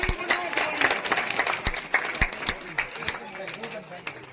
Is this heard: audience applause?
yes